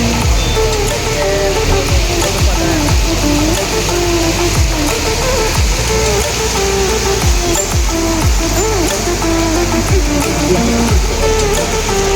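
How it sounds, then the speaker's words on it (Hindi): Heavy rain pouring steadily onto a flooded road in Bhubaneswar, a loud continuous wash of falling water with passing traffic noise mixed in throughout, no speech. "भुवनेश्वर एते मात्रा रे वर्षा है आज"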